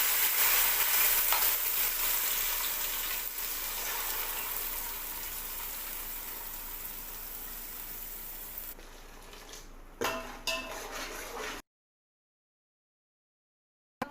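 Onions frying in a pan for Tulu-style palak pathrode, giving a steady close sizzle with occasional stirring clinks that fades and stops near the end, followed by silence.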